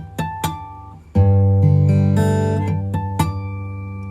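A couple of sharp plucks, then clear chiming natural harmonics on an acoustic guitar ring out and sustain, with a few more bright bell-like tones struck near the end.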